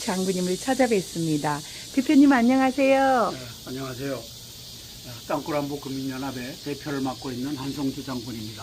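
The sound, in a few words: cicadas buzzing outdoors in summer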